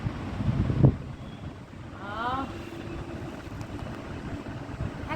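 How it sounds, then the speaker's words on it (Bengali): An electric fan runs noisily inside a tin-roofed house at night, giving a steady broadband whoosh throughout, with a brief voice heard partway through. "ফ্যানটা আওয়াজ হচ্ছে"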